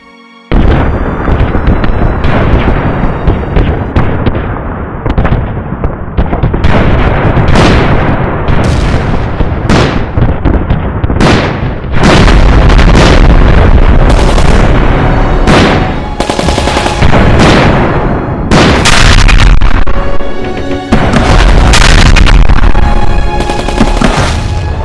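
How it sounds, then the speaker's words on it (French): Gunfire and explosions stand for the German Kaiser Wilhelm II's warning shots at Agadir, Morocco. Loud, continuous and dense: rapid bursts of shots and heavy booms layered together for the whole stretch, with no pause. "le kaiser allemand Guillaume II envoie des coups de semonce à Agadir, au Maroc"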